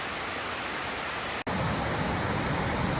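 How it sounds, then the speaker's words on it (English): Water cascades over a weir or waterfall along a cycling route in a steady, loud broadband rush, broken by one brief dropout midway. "the water is cascading over the top there, and you can actually hear it for quite a long way away"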